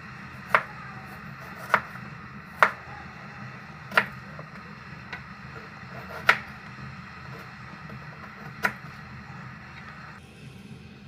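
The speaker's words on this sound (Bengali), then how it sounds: "এখন আলুগুলোকে ওভাবেই কেটে নেব।" Potatoes being cut with a knife on a board: seven sharp, distinct chops at roughly one-second intervals, close and clear over a low background hum, with no speech.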